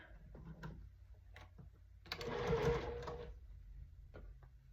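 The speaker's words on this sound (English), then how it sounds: "Sewing my rows together." A sewing machine stitches quilt rows together, its motor running in a steady burst of rapid needle clatter for about a second, framed by quieter clicks and handling sounds before and after.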